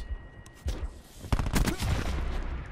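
Rapid bursts of gunfire from the Call of Duty Black Ops 4 beta in Kill Confirmed mode, loud and close, with a sharp onset of sustained firing in the second half.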